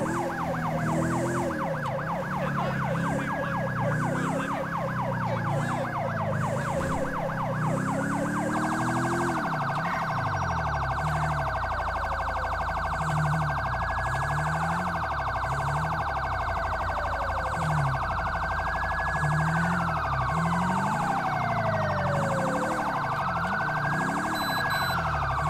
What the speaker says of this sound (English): So we're escorting an ambulance.